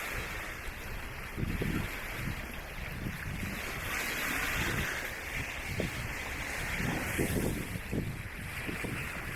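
A steady low boat engine drone carries over wind and splashing water in 22-knot winds and 3-foot seas, with rhythmic thumps as the hull slaps through small waves.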